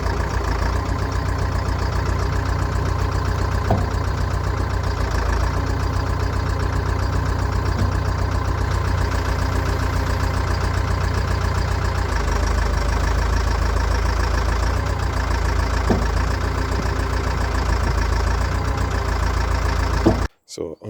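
An old Caterpillar machine's diesel engine idling, a steady low rumbling throb that runs unbroken for about twenty seconds before cutting off abruptly at the end, with faint ticks and knocks in the background.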